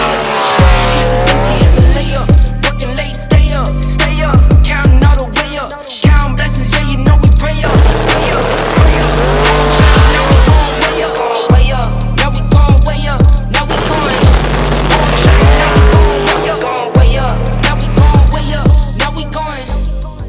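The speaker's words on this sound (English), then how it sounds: "now it's a Coyote swapped Fox body, single turbo methanol car, and it gets down" Coyote-swapped Fox body Ford race car, single turbo on methanol, revs hard with loud engine roar, shifts and bursts of tire squeal over about twenty seconds, close and continuous.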